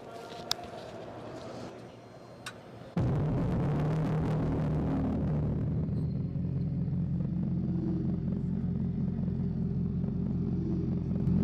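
An electric car's quiet rumble gives way to a sudden loud, steady synthetic exhaust drone from its sound system, with a humming, futuristic tone that holds and wavers slightly.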